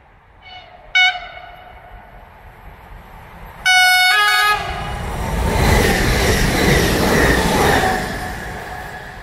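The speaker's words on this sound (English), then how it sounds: "Train to Legionowo." A train on the railway line between Warsaw and Legionowo sounds two short horn blasts, then a longer double toot, before a loud, steady rumble and rattle builds as it passes close by.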